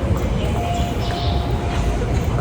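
A subway train pulls into a station platform fitted with protective screen doors, a continuous low rumble with a thin steady whine running through it, heard from nearby on the platform.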